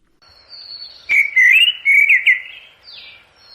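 Bird song with a clear, loud run of warbling, rising and falling whistled phrases lasting a few seconds, preceded by a thin high whistle and ending on a brief fainter call, heard alone with no talk.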